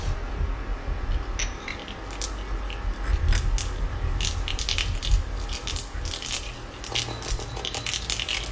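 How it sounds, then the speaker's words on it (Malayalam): Mustard seeds splutter in hot coconut oil in a pan, with a dense run of sharp crackles and pops over a steady sizzle that stays lively throughout. "ചൂടായ എണ്ണയിലേക്ക് കടുക് ചേർക്കാം."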